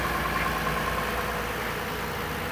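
A 2020 Toyota Sienna L mobility van's 3.5 V6 engine idles under the open hood, a steady, even hum heard close up with a constant broad rumble and no voices.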